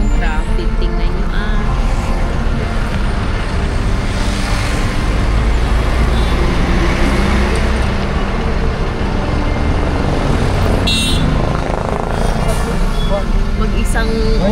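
Heavy road traffic near an airport in Nepal, a dense steady roar of engines with a passing bus or truck and a brief air-brake hiss, close and loud, with someone talking over it.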